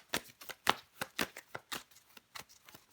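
Tarot cards are shuffled by hand in a quick series of close, crisp riffling bursts, about a dozen short flutters in rapid rhythm with brief gaps between them.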